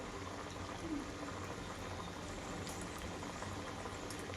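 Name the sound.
dal vadas frying in hot oil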